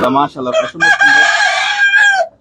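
A rooster at a poultry farm lets out a loud, close crow, preceded by a few short clucks, heard alone without talk.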